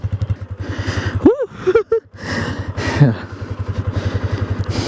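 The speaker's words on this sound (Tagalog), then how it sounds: "Yun yung stock na muffler." A 2019 Yamaha Sniper motorcycle's stock muffler burbles at idle with a steady low pulsing rhythm, briefly interrupted by a few short voice sounds.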